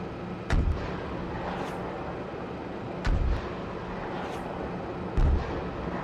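Distant artillery fire hits targets in three deep, muffled booms a few seconds apart, rolling over a steady background rumble.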